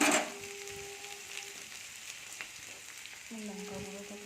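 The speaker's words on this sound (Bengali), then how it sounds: "লঙ্কা গুঁড়োটাকে একটু ভাজা হোক" Potatoes and chili powder fry in a pan with a faint, steady sizzle, close by and quiet, with brief clinks of utensils.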